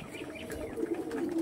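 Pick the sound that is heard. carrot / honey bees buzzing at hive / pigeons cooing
pigeons cooing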